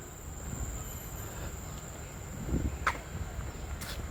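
An MRT train near a station entrance rumbles past at moderate distance, with a continuous rolling wheel noise and a couple of brief metallic squeals, against a steady high-pitched background tone.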